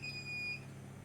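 A heater alarm gives off a thin, steady high electronic beep lasting about half a second, faint behind low room hum, with no talking.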